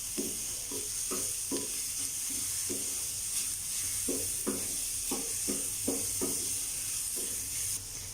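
Vegetables being lightly sautéed with salt in a pan for an egg vegetable omelette, a soft constant sizzle with about a dozen spatula scrapes and taps that come in short irregular bursts.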